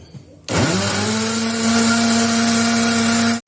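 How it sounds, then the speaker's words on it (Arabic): A loud electric hand mixer starts abruptly and runs at a steady high whine for a few seconds, whirring close by as it beats cocoa cake batter, then cuts off. "هنشغل بقى الخلاط"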